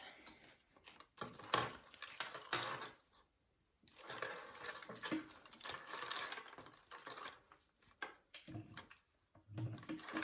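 A sewing machine runs in several bursts with long basting stitches, tacking fabric onto the front piece of a bowler bag, with short pauses between runs at close range.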